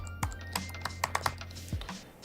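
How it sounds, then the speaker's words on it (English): Keys clatter on a computer keyboard while someone fills in an online signup form, with irregular taps and a few quick clusters close by over a low steady hum, and no talking. "Just typing in John Smith here"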